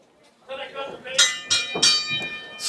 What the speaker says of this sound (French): Son de la cloche.